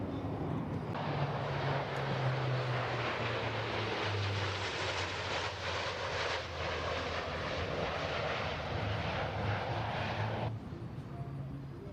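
A Lockheed C-130 Hercules turboprop passes overhead at the NAS Oceana air show, its droning propeller roar loud and steady for about ten seconds before cutting away abruptly.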